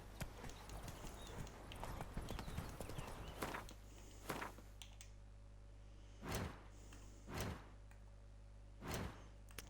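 Horse hooves clopping in the video game The Witcher 3, a quick run of galloping hoofbeats at first, then a few separate heavy thuds spaced apart over a steady low hum.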